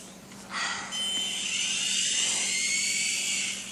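A small toy helicopter flies close by with a steady high-pitched rotor whine that starts sharply about half a second in and holds loud and continuous to the end.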